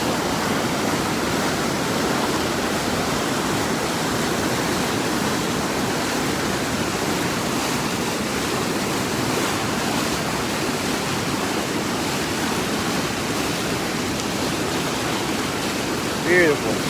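Creek water rushing down a steep ravine on Mt Sterling in October, a steady broadband wash that stays close and constant with no pauses, over its whole length.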